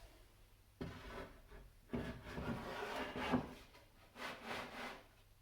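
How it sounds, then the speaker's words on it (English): A wooden drawer in the camper table of a Subaru Forester car-camper build slides in and out between its supports, giving several scraping, rubbing wood strokes at close range with short pauses between them. "the drawer fits right in between these supports"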